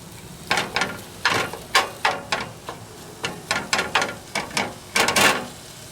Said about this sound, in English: you hear my cheapo pans rattling in here